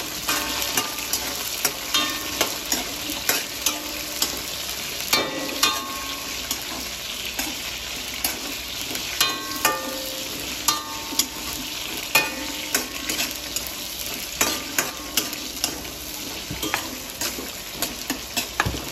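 Carrots sizzle and fry in a pan, with repeated scraping and clinking of a utensil stirring them at an irregular pace, close up.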